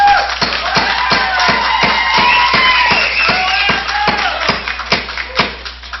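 Rhythmic, steady clapping from an audience in a board meeting room, loud and close, with a voice speaking over the claps throughout.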